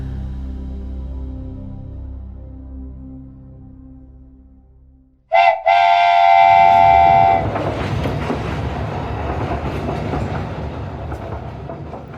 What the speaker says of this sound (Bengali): টয় ট্রেন থেকে নেমে কার্শিয়াং স্টেশনে পা রাখতেই